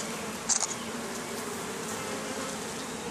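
Honeybees buzz steadily around an open hive during an inspection, a dense, close swarm drone that holds for the whole stretch, with a brief sharper flutter near the start and no talking.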